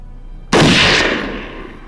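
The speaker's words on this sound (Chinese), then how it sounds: "他们开枪了" A single loud gunshot cracks sharply and close, then decays into a rolling echo over about a second and a half, alone with no voices.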